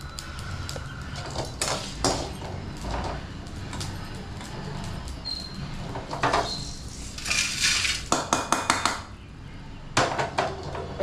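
Fried brinjal is moved from the pan onto a plate in a home kitchen, with repeated metal utensils clinking and scraping against the dishware in irregular bursts, close by, over a steady background hum.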